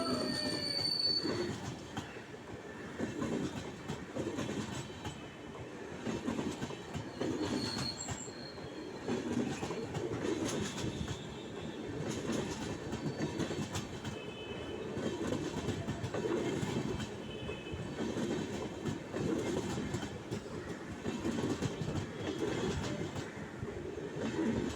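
A train rolls along a railway track through lush green countryside on the Thakurwadi–Borghat hill route, its wheels clattering and squealing in a steady, sustained rumble that stays loud and close for the whole stretch, with no voices.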